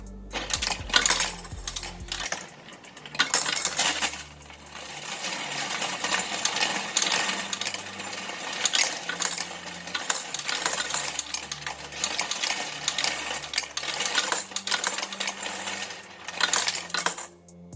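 A Go Plus electric coin sorter and counter rattles and clinks continuously as a stream of coins, including half dollars, pours through it, with a dense metallic jingle that persists throughout, close and fairly loud.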